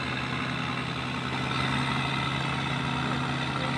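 A tugboat engine runs steadily while the boat pushes a sand barge on the water, giving a continuous low droning hum with an even rumble and no break in the sound.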